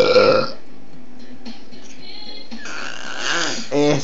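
An infant lets out a short, close burp at the start, followed by soft rustling and faint background sounds, with a couple of brief vocal noises near the end.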